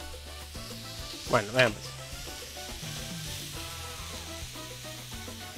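Ground beef and vegetables sizzle steadily in a hot pan, a constant frying hiss with a couple of brief louder spatters, while someone speaks briefly over it and music plays underneath.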